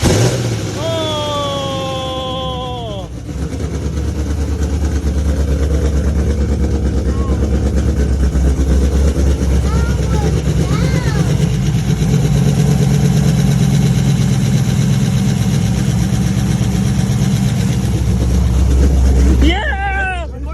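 A Chevrolet Camaro with a Bald Eagle cam idles right after its very first cold start: a steady, loud, low rumble held close by. Excited voices and whoops come over it near the start and again at the end.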